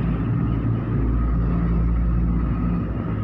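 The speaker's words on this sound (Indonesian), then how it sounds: "Truk tanah ngangkut tanah untuk tol ya kayaknya." A dump truck hauling soil for toll-road construction rumbles past as a steady low engine drone, mid-distance and continuous, with no talk.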